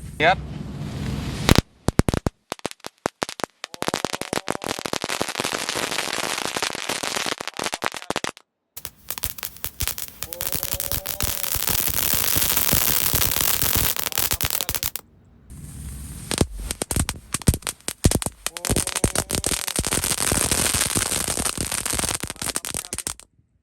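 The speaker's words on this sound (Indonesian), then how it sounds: "selanjutnya ini ada mercon telur dino 2 pak sekaligus. Kita nyalakan ya" Two packs of jumbo dino egg firecrackers go off at once in long, dense volleys of sharp crackling pops, loud and close, arriving in three sustained bursts with brief gaps.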